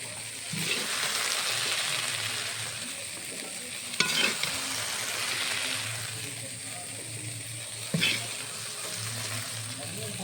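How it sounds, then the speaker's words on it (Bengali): Okra frying in a pan, being stirred, with a steady crackling sizzle throughout and two sharp scrapes of the spatula against the pan at about four and eight seconds, close and moderately loud. "ঢেঁড়স ভাজা হয়ে গেছে আমি হাঁটিয়ে নেবো"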